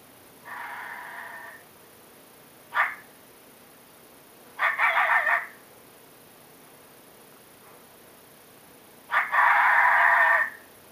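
Three harsh, raspy male coyote challenge screams from a FoxPro Spitfire electronic predator caller, separated by a sharp short chirp and stretches of quiet hiss.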